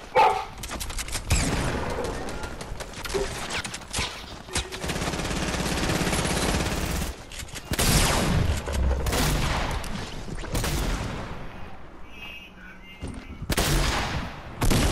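Fortnite gunfire crackles throughout as automatic bursts and single sharp shots, loud up close, broken by brief gaps and set against busy game noise.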